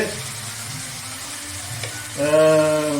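Chilli chicken liver hisses in a hot pan as sauce goes in, a steady near sizzle that swells sharply and loud toward the end.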